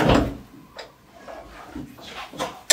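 A door being opened inside a house, heard as a few sharp clunks and knocks spread out with quiet pauses between them, ending in a louder bang.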